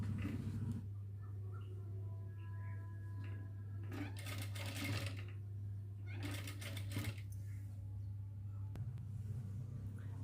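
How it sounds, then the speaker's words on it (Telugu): A sewing machine stitching around the neckline of a double-lined frock, with steady low motor hum and two bursts of fast stitching, quiet and close. "ఇలా ఒక 1/2 ఇంచ్ గ్యాప్తో స్టిచ్ వేసుకోవాలి నెక్ చుట్టూ"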